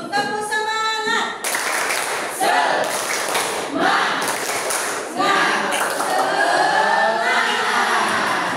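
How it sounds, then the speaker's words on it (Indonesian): Indonesian classroom students doing a rhythmic spirit clap, bursts of loud unison clapping in patterned beats mixed with children's voices chanting along, fairly close and energetic throughout. "Kita tepuk semangat dulu. Tepuk semangat."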